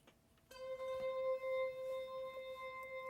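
A steady, unchanging synthesizer tone holds after a soft start, bright and buzzy with a constant pitch and a quiet background hiss.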